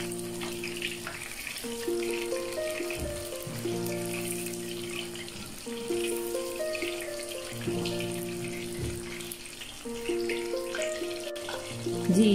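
Chicken pieces fry in a pan, turning golden brown, with a steady low sizzle that runs beneath prominent background music throughout.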